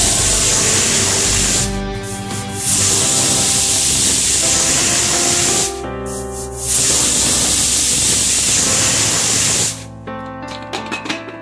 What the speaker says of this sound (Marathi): कुकरच्या मी 3 शिट्ट्या करून घेतलेल्या आहेत